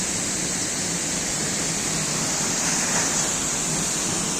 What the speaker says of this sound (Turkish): Akçakoca'nın Aktaş Şelalesi. Gördüğünüz gibi çok muhteşem bir şelale.